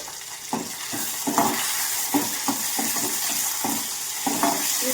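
Tempering sizzles in hot oil in a pan, a steady loud frying hiss broken by repeated scraping stirs at a fairly even rhythm.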